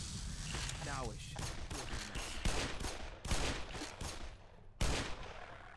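Bursts of video game gunfire in Half-Life: Black Mesa, rapid shots sprayed in clusters with several loud cracks standing out, heard under and between speech.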